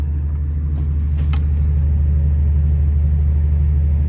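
A generator runs with a steady, loud, low rumbling drone that holds constant throughout, near and without pauses.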